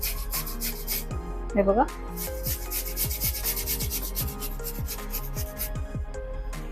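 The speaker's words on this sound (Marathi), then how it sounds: "आता आपण काकडी किसून घेणार आहोत" Cucumber rubbed against a kitchen grater in quick, steady rasping strokes, close and continuous, while someone briefly speaks over it.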